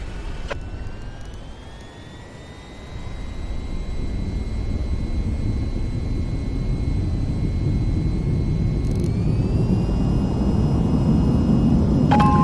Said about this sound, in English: raise the throttle to full and steer to keep aligned with the runway. Keep speeding up straight down the runway